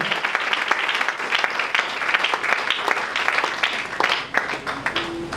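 Church congregation at an evening prayer service applauding loudly for the Lord, dense sustained clapping with voices mixed in throughout.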